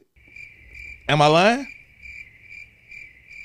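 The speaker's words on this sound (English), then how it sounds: "Crickets." Steady cricket chirping runs nearly alone through the whole stretch, a constant high trill over a low hum, briefly covered by one loud spoken line in the middle.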